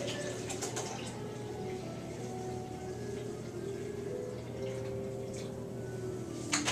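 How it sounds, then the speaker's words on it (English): Reclaimed yellow indicator stop bath for film developing, 24 ounces, pours into a pitcher, a continuous faint trickle and splash of liquid that runs steadily and ends with a brief clink. "I'm just simply going to pour 24 ounces of stop bath into my pitcher"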